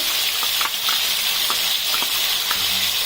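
Onion paste made from two large onions sizzles loudly in a pan for a potato gravy, a constant bright hiss with a few soft stirring knocks, close up and without voices.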